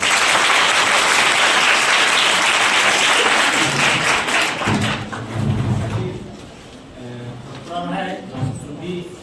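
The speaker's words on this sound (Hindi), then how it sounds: "उपस्थित सभी लोगों का हम अपने विद्यालय परिवार की तरफ से चाहेंगे कि जोरदार तालियों से इनका स्वागत करें।" Loud applause from a school audience welcoming guests at an awards ceremony for matric and intermediate students, strong for about five seconds, then fading as voices and a few scattered claps carry on.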